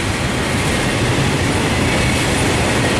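A Norfolk Southern freight train rolls past close by, a loud, dense, steady rumble with clattering wheel noise that fills the whole stretch.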